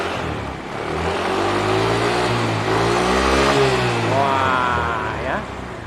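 Carburetted Honda Beat scooter engine fitted with a Kawasaki CDI, revved up and held high for several seconds before easing off, loud and close, with a voice speaking over the start.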